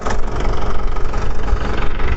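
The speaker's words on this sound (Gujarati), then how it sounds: "વાડીએ પોગી ગયા અને ટ્રેક્ટર એ આપણું અહીંયા તૈયાર છે" A tractor engine runs on a farm field while set up for spreading fertilizer, a loud, close, steady low rumble with a pulsing idle and no talking.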